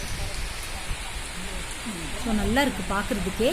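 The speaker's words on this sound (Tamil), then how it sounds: "வெளியே பயங்கரமாக மழை வந்துட்டுருக்குங்க." Heavy rain pours steadily outdoors as a broad, constant hiss throughout, while a person talks over it in the second half.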